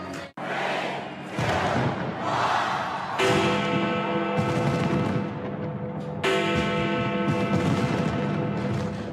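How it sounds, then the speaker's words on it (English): Big Ben's bell chimes ring out over a noisy London New Year's crowd, each strike leaving a long sustained ringing tone, with cheering and bursts of noise throughout. "Big Ben's chimes had been silent since August for a 4-year-long restoration project"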